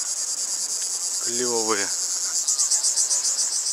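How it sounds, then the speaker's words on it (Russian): Cicadas in a warm seaside resort area buzz steadily throughout, a loud high drone that turns into a pulsing rhythm near the end, while a person briefly speaks a word over it. "Вот цикады."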